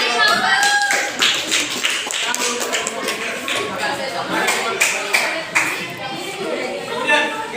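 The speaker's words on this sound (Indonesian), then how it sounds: "tepuk tangan" A classroom applauds after a group presentation, a scattered round of hand clapping with uneven claps and light taps, voices chatter faintly underneath.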